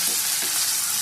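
Potato pieces frying in a pan with a little spice give off a steady, close hiss of sizzling oil with faint stirring scrapes, heard alone without any talk.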